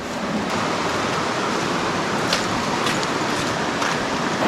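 Water rushes steadily through a rocky mountain valley stream on a trekking trail, a dense close wash of flowing noise with no pauses and no voices.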